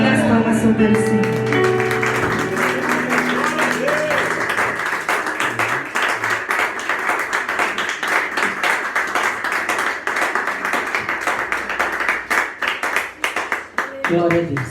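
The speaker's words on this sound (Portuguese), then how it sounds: "E as palmas são para o Senhor." A congregation clapping during a church service, sustained dense applause with some rhythmic claps over lingering music at the start, while a voice speaks over the clapping.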